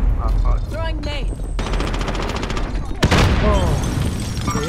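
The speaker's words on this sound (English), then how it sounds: "Throwing nade." A grenade bursts in a Call of Duty: Modern Warfare firefight with rapid automatic gunfire rattling around it, loud and close, and voices talk over part of the action.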